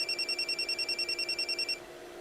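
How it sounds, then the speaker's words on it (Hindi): A phone rings with a rapid, warbling electronic trill in regular pulses for nearly two seconds, then stops, leaving low background noise. "ये देख, कार डिलीवरी के लिए ऑनर का ही फोन आ रहा है।"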